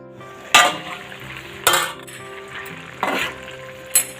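Four sharp metallic clanks at irregular intervals, like a lid being set on a pot, over a low background hum.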